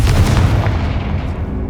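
A Confringo blast spell explodes in Hogwarts Legacy, a loud, deep booming burst that rumbles and decays over about a second and a half.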